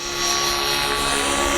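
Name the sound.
RC helicopter flying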